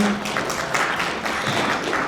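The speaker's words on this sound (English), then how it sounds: "Round of applause for both of you." Audience applause at a James Baldwin centennial lecture event, a steady wash of clapping from a room of people sustained at moderate level for a couple of seconds.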